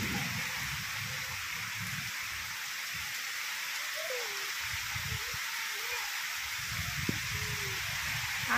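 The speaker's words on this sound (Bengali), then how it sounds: "দেখো প্রচুর বৃষ্টি এসছে জোরে, গাছপালা একদম ওলট পালট হয়ে যাচ্ছে, ঝড়ও হচ্ছে প্রচুর।" Heavy rain pours down steadily in a storm, a dense even hiss close by, while people talk quietly over it.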